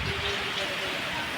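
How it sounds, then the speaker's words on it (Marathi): Steady rain falls close by in a broad, continuous hiss that lasts the whole short stretch, with no breaks and no distinct individual drops. "पाऊस कसं यायलंय आपल्याकडं"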